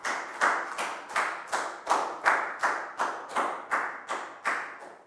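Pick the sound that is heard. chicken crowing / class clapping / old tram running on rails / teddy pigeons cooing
class clapping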